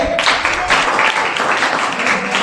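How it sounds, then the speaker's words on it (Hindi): Classroom students applaud together in a burst of dense, steady clapping that fills the room for a couple of seconds, close and fairly loud. "गुड, ताली मारिए।"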